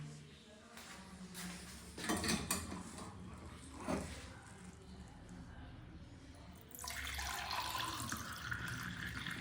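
Hot water runs from a tap at a moderate distance, with splashing and dripping in a sink that turn into a fuller, steady gush toward the end.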